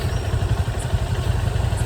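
A motorcycle engine idles close by with a steady low, chugging throb and no other sounds.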